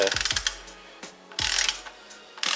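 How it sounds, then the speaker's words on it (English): A ratchet clicks rapidly in short bursts while tightening a bolt on a Subaru timing belt job, close and crisp, with brief pauses between strokes. "all you're going to do is tighten that down with a ratchet"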